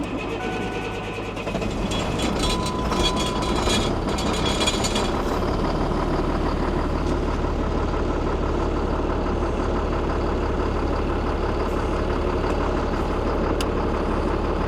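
Diesel tractor engine, warm from earlier running, catching and then running: a deep steady rumbling idle that holds evenly throughout, loud and close, with no talk over it.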